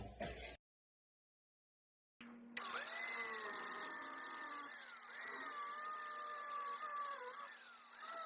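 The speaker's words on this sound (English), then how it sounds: "I'm going to grind these little tab off." An angle grinder cuts off a metal exhaust bracket tab on a 1999-2005 Volkswagen Jetta during a cat and muffler delete, a steady close grinding whine after a brief silence, wavering slightly as the disc bites.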